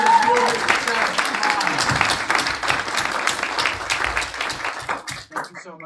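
A live audience claps in a sustained round of applause for a speaker at a spring speakers forum, dense and steady throughout, then breaking off abruptly near the end.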